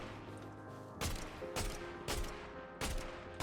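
Several sharp DMR rifle shots from the Fortnite video game, loud and close, firing singly in an irregular rhythm over a steady background of in-game ambience.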